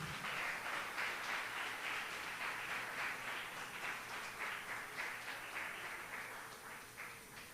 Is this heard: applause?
yes